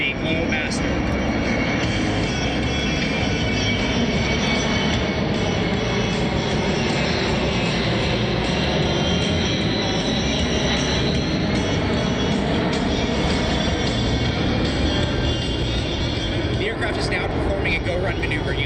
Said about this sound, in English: Ladies and gentlemen, the C-17-3 Globemaster.